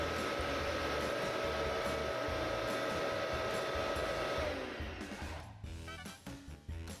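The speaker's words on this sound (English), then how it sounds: "let's start blowing air over these shapes and record the deflections for each one" Steady, loud rushing roar of a blower pushing air over test shapes for a drag experiment, running continuously before dropping away near the end to leave softer mechanical rattling.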